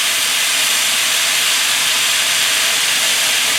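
Zucchini and other vegetables stir-frying in a very hot pan, giving a loud, continuous, even hiss throughout.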